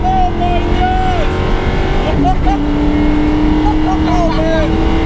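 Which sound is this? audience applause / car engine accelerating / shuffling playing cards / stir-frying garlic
car engine accelerating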